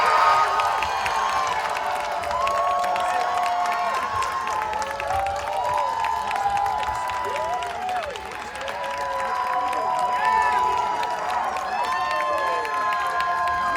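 Festival crowd cheering and whooping for a band at the Bitter Jester Music Festival grand finale in Highland Park, a sustained roar of many voices with shouts and claps that holds steady throughout, dipping briefly near the middle.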